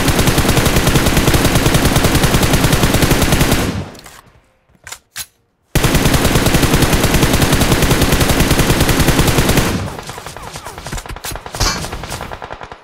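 Dense, loud bursts of rapid automatic gunfire in the PUBG battle game, sustained for several seconds, broken by a brief near-silent gap, then a long stretch of fire that thins into scattered, quieter shots.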